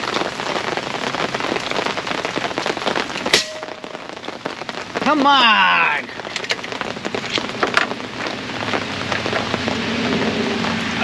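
Heavy rain pours steadily on surfaces outdoors during an airgun shooting session, a dense constant patter, while a man briefly calls out partway through.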